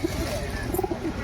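Pigeons coo at a busy pet bird market in Konnagar, giving a few soft, low, rounded calls over steady crowd murmur and background voices.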